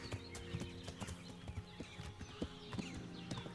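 Horse hooves clip-clop at a steady walking rhythm in the medieval game Kingdom Come: Deliverance, a quiet, even series of thuds against faint birdsong.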